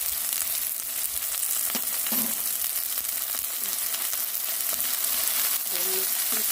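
Garlic frying in a pan on a high-heat stove, a continuous close sizzle with faint scrapes and knocks from stirring scattered through.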